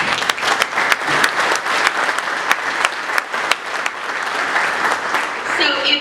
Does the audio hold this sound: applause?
yes